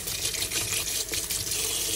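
Tap water runs steadily over round scad fish being washed in a sink, a soft continuous splashing gush heard close up.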